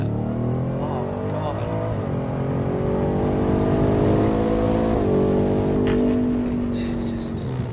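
A Ford F-150 Raptor R pickup truck engine roars and revs steadily, its pitch climbing and shifting, with voices faintly mixed in under the loud motor.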